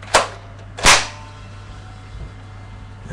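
Two sharp snapping shots from a spring-powered AK47 airsoft gun, fired about 0.7 seconds apart, close and crisp over a low steady hum.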